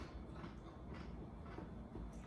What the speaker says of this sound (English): should we wait for the train to go?